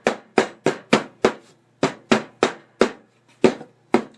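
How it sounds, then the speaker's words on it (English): A hammer pounds a new wood board to distress it, striking about a dozen sharp, loud blows in quick rhythmic bursts with a brief pause midway, each hit ringing and fading quickly. "screwed it onto this hammer handle so that I can pound into my board"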